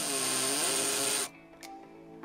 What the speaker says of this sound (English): I put it in the hammer drill.